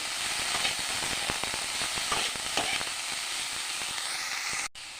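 Cabbage sizzles steadily in a hot pan as a filling for singara, with a continuous bright frying hiss and occasional stirring scrapes, close and alone.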